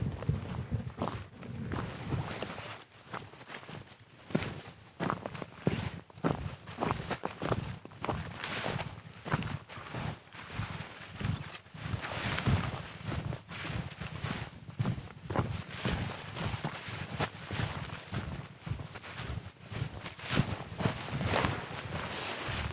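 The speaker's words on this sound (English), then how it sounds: "I'm going to point the H6 towards my feet so I can hopefully record my footsteps with this walk." Steady outdoor footsteps walking on a trail, picked up close with a Zoom H6 recorder aimed at the feet, a continuous rhythmic crunch of steps with light wind noise in the background.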